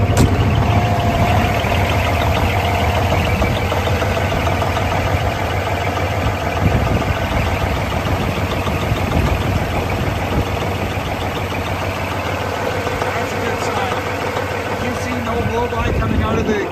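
A 2006 Peterbilt 379 truck with a 13-speed manual runs its diesel engine at a steady idle, a dense continuous low rumble close by with constant broadband roar and no clear changes in pace.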